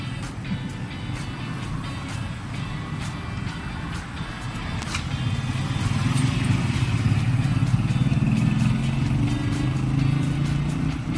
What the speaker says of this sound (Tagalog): Tatawag tayo ng tricycle doon.